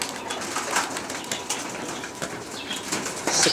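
Arabian roller pigeons take off with a dense, rapid flutter of flapping wings, a close, steady whirring that swells slightly at the end, with no voices.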